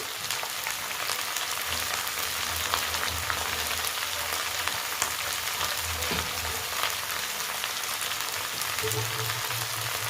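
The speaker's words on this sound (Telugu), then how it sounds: "వీటిని ఫ్రై చేసుకుందాం కొద్దిగా సాల్ట్ యాడ్ చేసి ఫ్రై చేస్తాను" Egg yolks sizzle and fry in a hot pan with salt added, a steady dense crackle of oil running throughout with a few louder spits, no voices.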